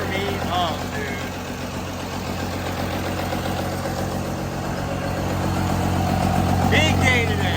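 1978 Chevy K20 truck engine running at a steady idle, a low rumbling drone up close with voices talking over it.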